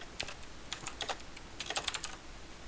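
Bursts of quick clicky keystrokes on a computer keyboard, heard nearby and fairly faint, come in irregular clusters with short pauses between them, and no talking.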